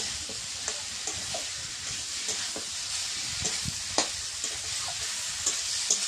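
Potatoes and snails are stirred into spices in a frying pan at a village kitchen, giving a steady close-up sizzle with regular scraping strokes of the spatula throughout.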